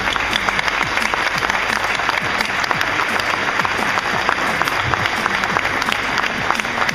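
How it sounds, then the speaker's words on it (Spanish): Loud, sustained applause from a crowd at a store opening, with many overlapping claps forming a dense, even wash and a few sharper individual claps standing out. "les quiero agradecer y pedir un aplauso a todos ustedes"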